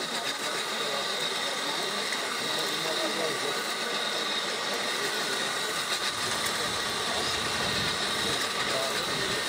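An RC truck strains against a weight sled in a tractor-pull event, its electric motor whining steadily with a grinding mechanical drone and rumble throughout. Voices talk over it.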